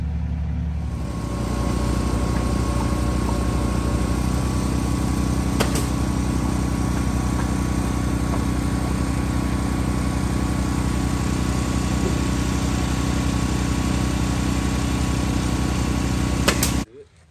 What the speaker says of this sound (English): we're setting trusses with the Sky machine here. I'm lifting them up